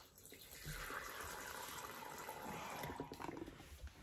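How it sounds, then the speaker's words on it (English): Water streams from a tap or container into a small water bowl inside a Thai golden fringe tarantula enclosure. The trickling splash is faint and close, steady for a few seconds, then tapers off. "Get us some water in there."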